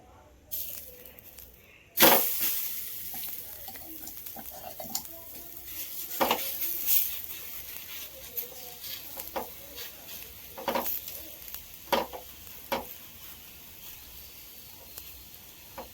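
Aloo and bathua paratha cooking in ghee on a village stove, with a soft sizzle under repeated scraping and clinks of a spatula on the pan; a sharp clatter comes early, then intermittent taps continue close by.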